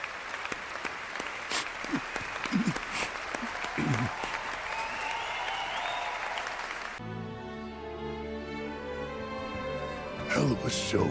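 A crowd applauds in Final Fantasy 7 Rebirth: dense, steady clapping fills the first seven seconds, then gives way to music with a voice briefly over it.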